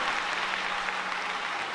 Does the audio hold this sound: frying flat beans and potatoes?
no